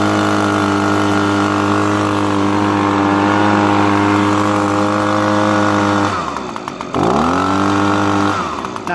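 Echo PB250 leaf blower two-stroke engine running at a steady high idle with a strong buzzing drone, then dipping and recovering as the throttle is blipped twice near the end, close and loud.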